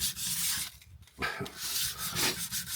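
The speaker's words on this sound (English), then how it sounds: "you should never get away from having to do hand sanding" Rhythmic rasping strokes of sandpaper rubbed by hand across wood already sanded to 240 grit, close up, in uneven back-and-forth passes with brief pauses between.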